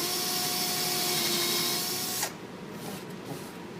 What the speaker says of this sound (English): I'm going to go ahead and drill that.